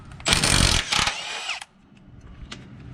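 An impact wrench buzzes loudly in one sustained burst, then a shorter one, while removing 17 mm frame bolts on a 2006 Honda Pilot, before quiet shop noise returns.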